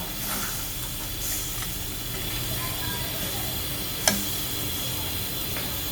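A liquid home remedy cooks in a pan with a steady, soft hiss and sizzle throughout, and a single sharp clink near the end.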